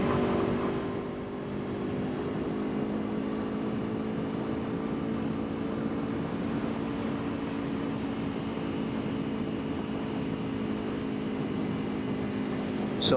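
Aprilia Tuono motorcycle cruising on an open road, a steady low engine drone with wind rush that holds at a constant, fairly loud level throughout, no voices.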